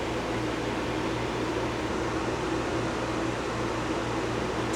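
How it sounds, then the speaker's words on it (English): A 13,000 BTU air conditioner's compressor runs with a steady, broadband whoosh and a low, constant hum, droning on evenly and fairly close with no break or talk. "that's the compressor running, I believe, with the compressor running"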